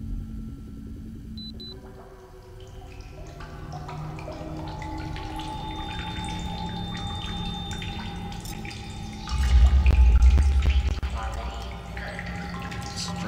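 Water being collected in The Solus Project video game, heard as soft trickling and dripping with watery splashes. A louder rush swells near the end over low ambient drones and faint tones.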